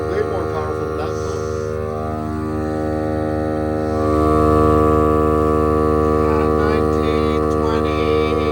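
Loud, steady electric hum of an electric tire air pump running near an old van, droning continuously and swelling slightly partway through, with people talking over it.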